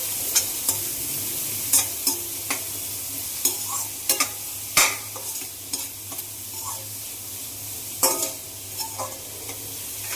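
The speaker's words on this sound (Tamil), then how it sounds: "நம்ம வெட்டி வச்சு வெங்காயம், அதுக்கப்புறம் பச்சை மிளகாவும் இந்த சைடில் போட்டுக்கலாம். இதை நம்ம ஃப்ரை பண்ணலாம்." Chopped onion and green chillies fry in a nonstick pan with a steady sizzle underneath. Intermittent scraping stir strokes from a spatula cut through it at close range, and no one speaks.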